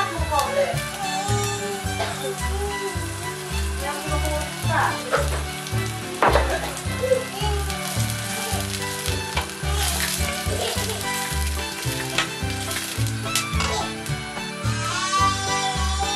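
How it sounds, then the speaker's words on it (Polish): Food for enchiladas, with canned tomatoes added, sizzles steadily in a pan with occasional stirring, under background music. "I wszystko razem jeszcze chwilkę smażymy."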